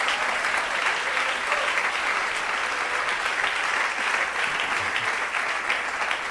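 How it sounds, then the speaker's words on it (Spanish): Sustained applause from a church congregation during a Spanish-language sermon, steady and dense across the whole stretch, fairly loud and even with no speech over it. "Dele ese aplauso a la gloria de Dios."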